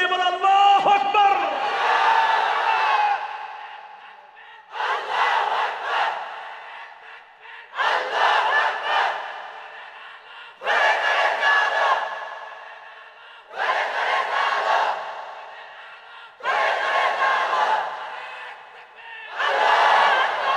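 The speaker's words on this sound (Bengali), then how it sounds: "তোমরা তাগড়া যুবকের মতো তাকবীর ধ্বনি দিয়ে বলো আল্লাহু আকবার" Young men in a large religious-gathering crowd shout the takbir together, a loud echoing mass chant repeated in about seven rhythmic bursts with short pauses between them.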